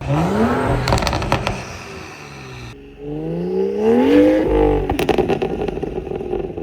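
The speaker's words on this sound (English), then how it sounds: "here is a few revs in the cold" A BMW 335i with a modified loud exhaust revs a couple of times on a cold day, the engine note swelling and falling back to a rough idle, loud and close.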